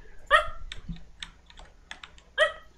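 An indoor dog lets out two short, sharp barks roughly two seconds apart, fairly close and loud, with light keyboard typing clicks filling the gap between them and no one speaking.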